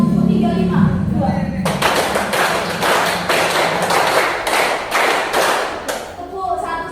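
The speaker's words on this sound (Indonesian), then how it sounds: "Coba tepuk 3, 5, 2." A class clapping a rhythm in groups of three, five and two, sharp loud bursts of many hands in short clustered sets after a brief spoken instruction, with voices at the start and end.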